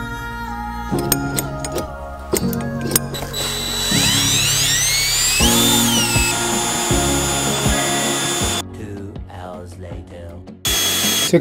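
A power drill whirs and bites into steel for a lawn tractor lift arm in bursts, with rising and falling motor pitch, clicks, and grinding between runs.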